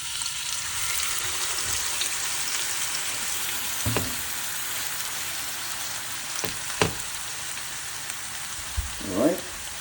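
Chunks of beef searing in a pot for Jamaican-style pot roast give off a steady broadband sizzle, and a few sharp clanks of a utensil against the pot break through it.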